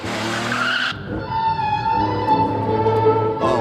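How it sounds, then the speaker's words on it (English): A car spins its wheels off the start line on a cold, wet track: a loud, sustained tire squeal with a steady engine whine that rises, then holds for several seconds. "So, wheel spinning off the line."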